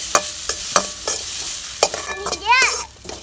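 Puffed rice and coconut roasting in ghee, stirred with a series of sharp scraping strokes against the pan over a light sizzle, close and fairly loud, with a brief high squeaky sound near the end.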